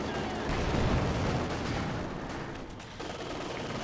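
Mortar fire in Company of Heroes 2, with a dense, rumbling barrage of artillery blasts and gunfire layered in a busy battle mix, moderately loud and continuous.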